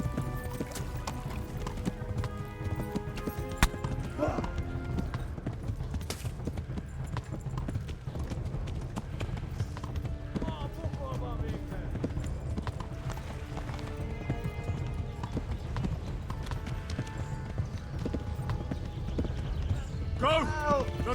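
A horse gallops in the Kingdom Come: Deliverance video game, its hoofbeats a steady, rapid clip-clop that runs throughout beneath a talking voice and ongoing game sounds.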